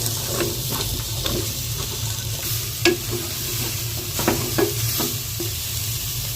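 Vegetables for pulao fry and sizzle in hot oil with masala, a steady close hiss broken by a handful of sharp scraping clicks as they are stirred in the pan.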